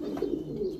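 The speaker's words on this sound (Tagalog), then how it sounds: "At ito nga ang ibon, no?" A pigeon gives a single soft, low coo close by, lasting under a second.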